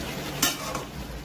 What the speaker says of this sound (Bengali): এবার একটু খুলে দিয়ে কষাচ্ছি।